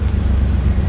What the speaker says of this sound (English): just get the car running